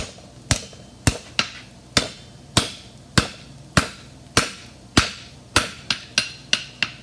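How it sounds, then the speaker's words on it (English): Repeated sharp metallic hammer blows on hot steel as a heart-bar horseshoe is forged at a national championship shoeing contest, about fourteen ringing strikes at a steady, quickening rhythm, close and loud with no talk. "I'm going to just hit with the heel of my hammer, or the side of my hammer"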